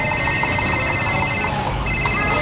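A telephone ringing with a loud, steady electronic tone that holds almost continuously without a break.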